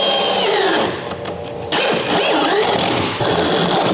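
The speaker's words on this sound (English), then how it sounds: "we're going to drill our 1-inch hole here for the yak attack through hole" A power drill bores a 1-inch through-hole in a Native Watercraft kayak hull, giving a loud, steady whine that dips briefly as the bit bites into the plastic.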